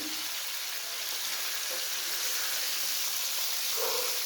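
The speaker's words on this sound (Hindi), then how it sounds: "तेल गरम हो गया, तो अब डाल देंगे ये फिश हल्का फ्राई करना है इसी सालन में" Fish sizzles steadily in hot oil for a fish qorma, a close, even hiss that fills the whole stretch without pause.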